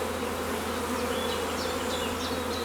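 Honey bees flying around a hive make a constant close buzzing drone, with individual bees whining past near the top of the sound, steady and uninterrupted with no talking.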